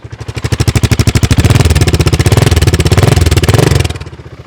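Close and loud, a BSA Gold Star motorcycle engine is blipped through a few revs, its single-cylinder thump quickening into a rising, clattering roar before dropping back toward idle, with no voices.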